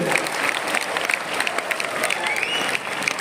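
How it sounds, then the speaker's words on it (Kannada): Applause from a crowd at a college inauguration, dense and lively clapping from many people filling the whole stretch, fairly loud and close, with faint voices mixed underneath. "ಮೊದಲನೆಯದಾಗಿ ಜೋರಾದ ಚಪ್ಪಾಳೆಗಳನ್ನು ತಮ್ಮೆಲ್ಲರಿಗೂ"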